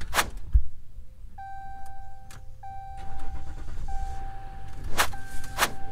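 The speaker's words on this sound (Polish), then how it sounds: "Pięknie tutaj słychać dieselka." A diesel car with 135,000 miles and flood damage, parked at an auction yard, cranks and fires up, then settles into a steady idle, with chime tones sounding as the engine runs.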